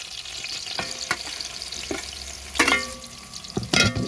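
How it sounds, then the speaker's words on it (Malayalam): Tender jackfruit thoran with crushed coconut being stirred in a hot pan, with a spoon scraping and clattering in a few bursts over a soft sizzle, close by and without speech. "ചെറുതായിട്ട് ഒന്ന് പച്ചയൊന്ന് മാറാൻ വേണ്ടി നമുക്കൊന്ന് ഇളക്കി കൊടുക്കാം"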